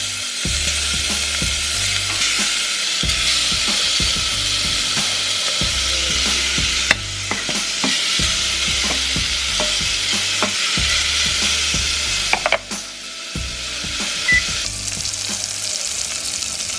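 Shrimp fry in oil in a hot pan with a loud, steady sizzle, broken by repeated stirring and scraping clatter, with no voices.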